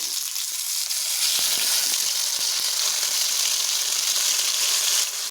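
Raw banana slices coated in masala fry in a pan with a steady, bright sizzle and faint pops, continuous and close for several seconds before stopping.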